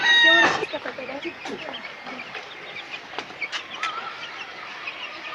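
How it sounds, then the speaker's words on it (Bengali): Desi native chickens clucking close by, a sharp burst at the start followed by steady scattered clucks and soft calls throughout. "এটা হচ্ছে দেশি মুরগি"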